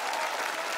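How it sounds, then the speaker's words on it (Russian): Audience applause on a children's math TV show, following a young contestant's correct answer; dense, steady clapping fills the short moment without pause. "Аплодисменты Ярославу"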